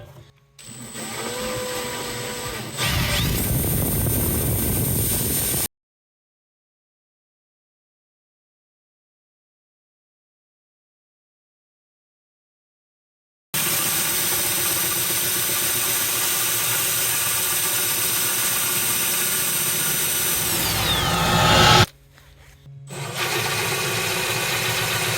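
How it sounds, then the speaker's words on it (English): A power tool cutting a hole in the back of an aquarium tank gives a steady, loud mechanical whine in two long runs separated by a silent gap, ending with a brief stop and a restart. "it will start the long, tedious process of trying to cut a hole in the back of the tank"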